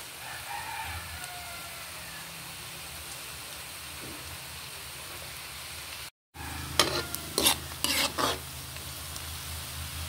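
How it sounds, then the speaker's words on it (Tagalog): Garlic dropped into hot margarine in a pan for rabbit kaldereta, a steady soft frying hiss with a brief gap, then louder crackling bursts and stirring scrapes, close by with no talking. "Ayan guys, hulog na rin po natin yung ating bawang."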